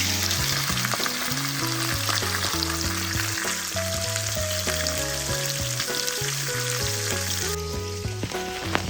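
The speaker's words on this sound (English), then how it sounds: "I fried the salmon in the same skillet that I fried the shrimp in." Salmon fries in a skillet previously used for shrimp, giving a continuous, even sizzle under steady background music.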